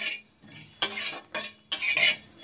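Dry-roasting spices for egg devil, stirred in a hot pan with the heat switched off, giving a few sharp scraping bursts of utensil against metal between quieter pauses, close and fairly loud.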